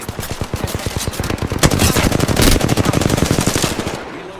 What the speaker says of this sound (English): I shot him in the head so many times.